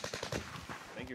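Rapid automatic gunfire in Call of Duty Warzone rattles off in a quick burst of several shots, fairly close, followed by fading echoes and game noise.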